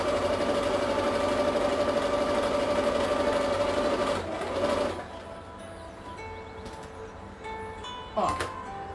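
A sewing machine runs steadily while stitching a fabric seam on a handmade cloth doll, a continuous mechanical whir for about four seconds that then stops, leaving quieter room sounds and a brief clatter near the end.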